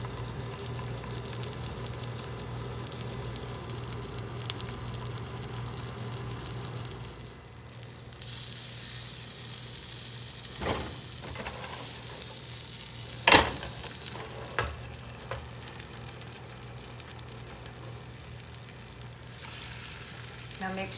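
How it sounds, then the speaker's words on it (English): Black bean ranch burger patties sizzle in a pan of olive oil, a steady close frying hiss that jumps louder partway through, with occasional clinks and knocks from the pan and no talking. "Do you hear that sizzle?"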